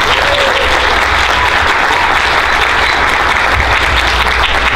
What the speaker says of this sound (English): So another round of applause for that,